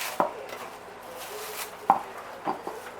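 A knife cuts slits in pork sausages on a board, with a few distinct sharp taps of the blade at uneven intervals against quiet background noise.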